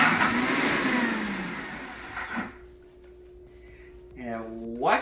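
An Instant Pot Ace 60 blender whirs loudly as it purees cauliflower for about two seconds, then winds down to a faint hum while a person speaks over it.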